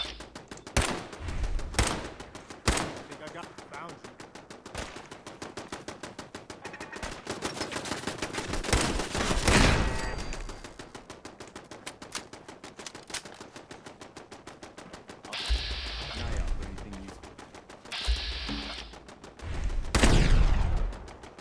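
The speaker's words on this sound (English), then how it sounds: "that repetitive shooting sound" Rapid, repetitive gunfire from a glitch in the video game Fallout 4, with bursts of automatic shooting and sharp single shots recurring throughout, loud and close, without talk.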